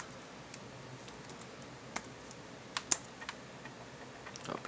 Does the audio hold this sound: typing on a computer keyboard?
yes